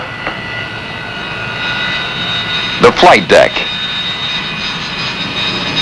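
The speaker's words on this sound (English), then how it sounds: "Stand by to start the A4s and the F4s." Jet engines of A-4 and F-4 aircraft spool up on an aircraft carrier flight deck, a steady roar with louder bursts around the middle, while a voice gives commands over it.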